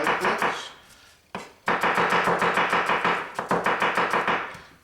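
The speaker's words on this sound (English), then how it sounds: "It's just going to be a julienne onion like this." A knife cuts a julienne onion on a board in quick, evenly spaced chops, loud and close, with a short pause partway before the rhythmic cutting resumes.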